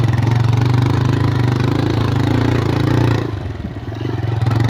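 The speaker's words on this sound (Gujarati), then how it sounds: "આપણા મિત્રો આવી ગયા છે બાઇક લઈને, આપણા પાછળ આવતા હતા." Friends' motorcycle engines rumble close by on a rural dirt road, a steady, loud low throb that dips and shifts briefly near the end.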